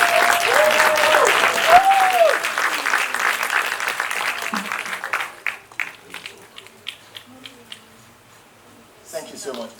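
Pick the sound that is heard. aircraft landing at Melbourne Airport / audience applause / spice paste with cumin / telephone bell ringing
audience applause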